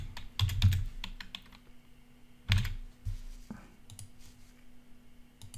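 Typing on a computer keyboard to rename a Shopify theme backup: quick clusters of close key clicks, a louder burst near the start and another midway, then scattered softer taps.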